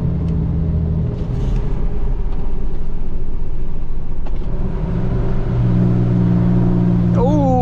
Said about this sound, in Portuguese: Ó, o freio motor.